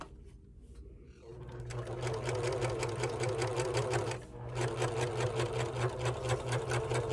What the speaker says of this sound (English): because this is a thicker material on my serger